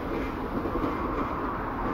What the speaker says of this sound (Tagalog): Parating na yung MRT.